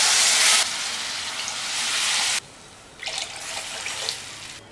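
Water is poured into a hot pan with sautéed onions and tomatoes for tomato upma. A loud, hissing gush comes in bursts, cuts off sharply, then returns with a splashy sizzle.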